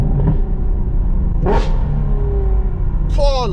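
An extremely loud car roars and revs on the street, a heavy deep rumble throughout with sharp rising throttle blips near the start and the end, while a voice is heard over it.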